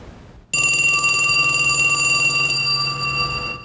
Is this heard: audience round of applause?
no